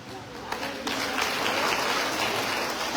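An audience at a talk on the women's commission breaks into applause that builds after a quiet start and holds as steady, moderately loud clapping, with some voices mixed in.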